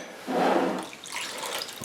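Water is poured into a bowl holding an egg, mixing the liquid ingredients for an Asian pear pie crust: a short gurgling splash that settles into a fainter trickle, heard alone.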